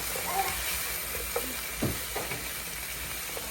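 Food sizzles gently in butter in a pan as it is stirred, with a soft, even hiss and a few brief scraping clinks of the utensil, fairly quiet and close.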